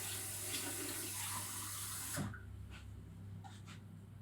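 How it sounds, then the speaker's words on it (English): Water runs from a tap, steady and broadband, then cuts off sharply partway through, leaving a quieter hiss and a few faint clinks while pastry is being made. "We'll add some water to our pastry."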